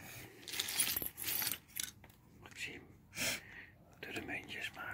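Coins being sorted and dropped, with bright metallic clinks and jingles in irregular bursts, close by, while people whisper and talk softly between the drops.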